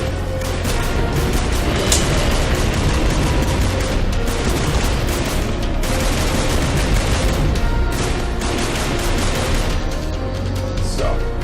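Dense, rapid gunfire blasts through the HTC Vive VR game IrreVRsible as hordes of zombies attack, loud and continuous with booming shots layered throughout and a voice talking underneath.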